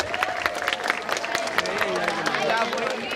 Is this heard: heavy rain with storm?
no